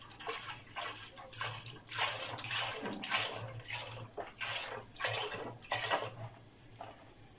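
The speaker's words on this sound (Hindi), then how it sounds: "तो अब इसके अंदर मैं दूध डालता हूँ, 1 लीटर मैंने दूध इसके अंदर डालना है।" Milk poured into a pot over set jelly, a steady watery splashing and trickling in repeated pulses with a low hum underneath, close and moderately loud, no talking.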